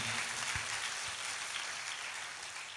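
A church congregation claps together during a sermon, a dense, steady wash of applause that holds evenly from start to finish.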